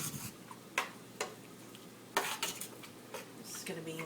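A spoon scrapes and taps against a pot as pectin is stirred into blueberry jam, a handful of quiet clinks over a faint background hiss with no talk.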